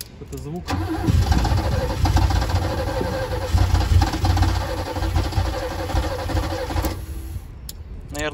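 A BMW E30 cranks and fires after five years sitting unused, then runs loud and rough for several seconds before cutting out, with a voice briefly heard over the engine.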